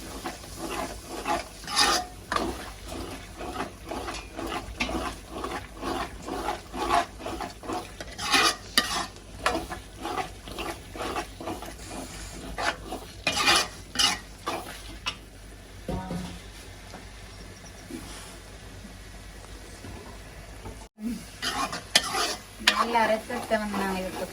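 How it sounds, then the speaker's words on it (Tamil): Goat blood poured into a pan of frying food and stirred, with a steady sizzle under repeated scraping and stirring strokes of a utensil against the pan, close and continuous, with a brief gap near the end. "இந்த ரத்தத்தை வந்து இதுக்கு ஊற்ற போகிறோம் ஊற்றிட்டு நல்லா மிக்ஸ் பண்ணுவோம்"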